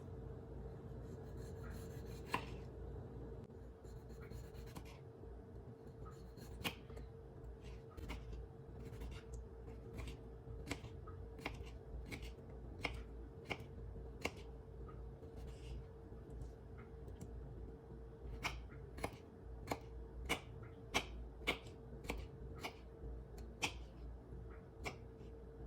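A knife cuts an aloe vera leaf into pieces, giving a series of faint, crisp taps and clicks against a quiet background hum, irregular at first and then more frequent.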